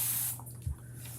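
Short hiss of a spray bottle misting water into a paint tray, a brief broadband burst at the start, then a faint low hum underneath.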